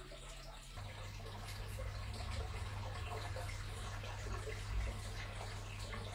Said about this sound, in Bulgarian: Доливаме вода